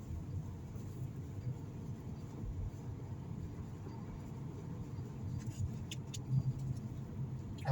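Ora Good Cat electric car driving on a road, a steady low interior hum and tyre rumble throughout with slight swells near the end, no speech.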